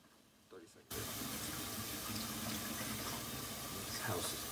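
Water runs steadily from a household tap, starting abruptly as a loud, even rush that continues to the end.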